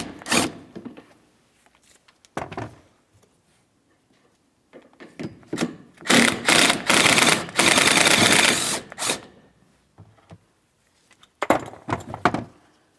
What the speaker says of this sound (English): So there's 2 mounting nuts that need to be removed. Now we're using a 15mm for each of these mounting nuts.